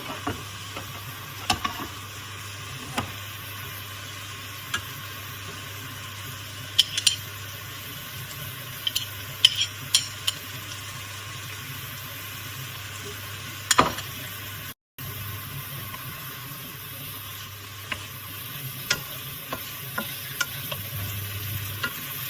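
Garlic and chili pepper frying in a pan, a steady soft sizzle running throughout with occasional sharp clicks and scrapes of stirring utensils against the pan, close by and fairly quiet, with a momentary dropout midway.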